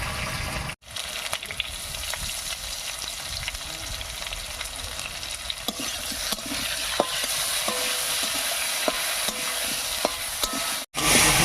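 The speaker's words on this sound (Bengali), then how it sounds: "ফোড়নের উপরে আলু দিয়ে একটু নাড়িয়ে নিয়েছি এবারে দেবো লবণ আর হলুদ" Potatoes stirred and frying in hot spiced oil with salt and turmeric for a village river-fish curry, a steady sizzle with scraping spoon strokes and small clinks, close and continuous, with no talking.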